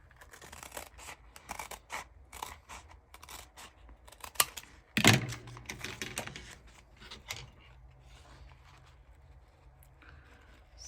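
Scissors snip through material for a wreath hat at close range, a series of crisp repeated cuts with rustling handling and one sharper snap midway.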